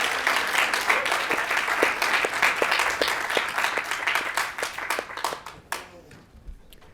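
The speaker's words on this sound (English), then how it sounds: "Let's give her another round of applause." An audience applauds after a talk at a lecture event on women in Hawaiian politics, with sustained, fairly distant clapping that thins out and fades near the end.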